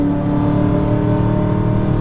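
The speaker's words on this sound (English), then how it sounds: "What do you think to the power delivery, Misha?" A BMW M3 engine drones loudly and steadily under acceleration, a deep harmonic growl from inside the cabin, building gently with no speech.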